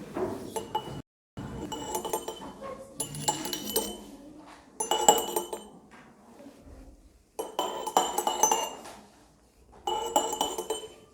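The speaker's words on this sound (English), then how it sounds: "Today we are going to show a physics project named Jal Tarang." Bright ringing tones struck on water-filled glasses (jal tarang), played in short melodic bursts with brief pauses between phrases, fairly close and clear.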